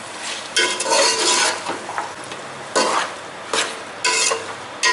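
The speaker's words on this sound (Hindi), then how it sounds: "इसको भी साथ ही फ्राई कर लेंगे" Ingredients, including green chillies, frying in a pot for white mutton pulao, loud bursts of sizzling and scraping stirs that come in repeated waves over a constant background hiss, close up with no talk.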